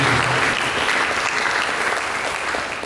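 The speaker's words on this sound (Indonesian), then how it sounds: "Mari kita beri tepuk tangan bagi Yesus" A church congregation claps for Jesus during a sermon on building God's kingdom, a dense, steady wash of applause filling the room throughout and tapering slightly toward the end.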